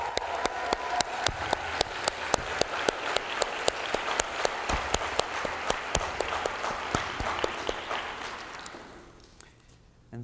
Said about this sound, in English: Can we please give another round of applause for these brilliant,